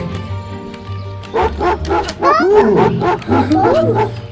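A dog in the video game Scary Teacher barks and yips several times in quick succession, mixed with whining, growl-like tones, close and fairly loud over a low background hum.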